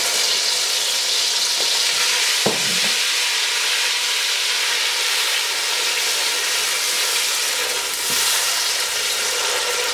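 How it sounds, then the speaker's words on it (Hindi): Green chillies sizzle in hot oil with a loud, continuous frying hiss and crackle, close up, with a couple of brief clinks of utensils, no talking. "गरम तेल में जाती जायका छोड़ देता है। थोड़ी सी हरी मिर्च मैं यहाँ पे डाल रही हूँ"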